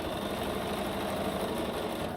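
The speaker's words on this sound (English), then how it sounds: "So it comes down, meets with those feed dogs on the bottom, and it's actually pulling it together." A sewing machine with a top feed foot stitches a quilt block, a steady rapid mechanical whirring and clatter, close and continuous for the whole moment.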